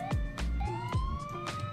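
A Roblox police car siren wails and yelps in rising and falling sweeps, loud and close, with engine and skidding noise from a drifting cruiser beneath.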